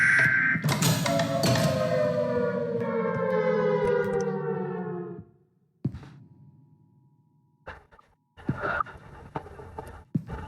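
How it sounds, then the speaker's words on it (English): A loud video game siren alarm in Minecraft's Create mod wails and winds down in pitch until it cuts out, followed by a few scattered clunks and thuds. "And then the alarm stopped."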